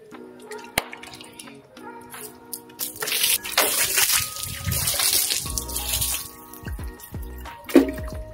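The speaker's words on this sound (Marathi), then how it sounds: "आली तर एकदा पाणी मारून क्लीन करून घेतो बस फक्त" Water is sprayed to wash a motorbike, starting with scattered drips and splashes, then a loud, steady hissing spray close by, which fades back to trickles and drips.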